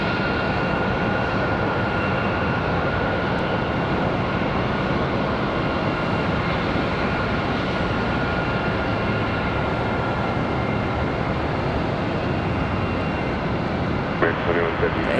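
An Airbus A350 airliner taxis very slowly at Charlotte Douglas International Airport, its engines giving a steady, loud jet roar and whine that holds throughout, with a brief clatter near the end.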